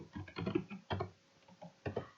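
Faint clusters of keystrokes on a computer keyboard while writing a simple C++ program, arriving in a few short irregular bursts with no talk.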